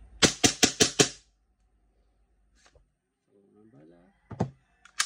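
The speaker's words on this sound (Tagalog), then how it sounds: "For Ma'am Roxanne Tan of Davao City, WG17, firing." A WE G17 airsoft pistol fitted with a high-impact roller and 4uad hop rubber fires five rapid, sharp shots in a quick string, loud and close, followed by quiet handling noises.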